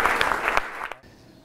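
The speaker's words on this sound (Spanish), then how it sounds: "el aplauso hoy se lo debemos a Antonia" An audience claps at a Nerva town hall event about an agreement with Atalaya Mining. The applause is dense and steady for about a second, then stops abruptly.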